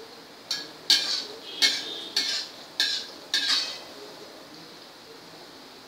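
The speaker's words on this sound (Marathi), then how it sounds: "हे बघा, कसे सारखे गुलाबजाम तळले जात आहेत।" A utensil clinks and scrapes against a pan about six times at an uneven rhythm while gulab jamun fry in oil, over a faint, steady hiss.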